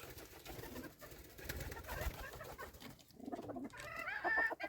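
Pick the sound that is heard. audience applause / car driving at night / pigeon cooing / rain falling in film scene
pigeon cooing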